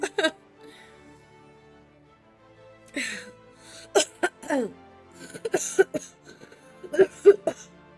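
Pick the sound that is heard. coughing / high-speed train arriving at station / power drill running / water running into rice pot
coughing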